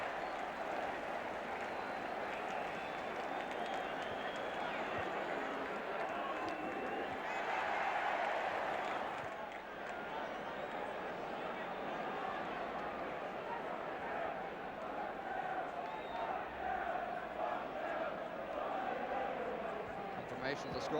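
Stadium crowd at a 1980s English football match, Southampton against Manchester United, roaring after a goal, a broad sustained roar swelling briefly and then settling into steady noise, with a commentator talking over it.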